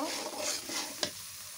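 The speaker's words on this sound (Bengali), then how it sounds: "আমি এখন একটু নাড়িয়ে গোশগুলো সব উঠিয়ে দিব।" Chui jhal beef being stirred in a pot over a clay stove; a quiet sizzle of frying meat with a soft scraping stir, ending in a single sharp clink of the spoon against the pot.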